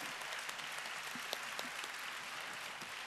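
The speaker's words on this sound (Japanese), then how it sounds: "皆様もう一度大きな拍手をよろしくお願いします。" Applause from a concert audience at a live music event with a DJ duo, a faint, distant-sounding wash of clapping with a few sharper individual claps standing out.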